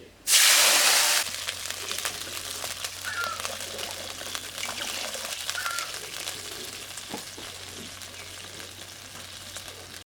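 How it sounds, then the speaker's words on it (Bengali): Water poured into a hot pan of frying fish-head and taro-stalk curry bursts into a loud hissing rush, then settles into a continuous bubbling sizzle with light stirring sounds. "জল দিয়ে দিই"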